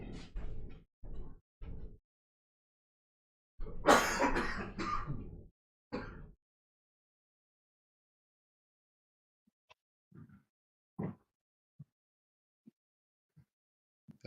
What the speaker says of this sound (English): I hear you coughing and sneezing.